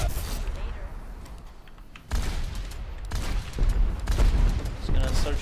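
Video game gunfire in dense bursts of shots, quieter at first then a louder stretch of sustained firing, with game noise and some voice underneath.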